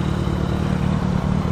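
A Suzuki GSX-R750 motorcycle on the road along a coastal highway gives a steady, loud engine and wind roar that holds evenly throughout without breaks.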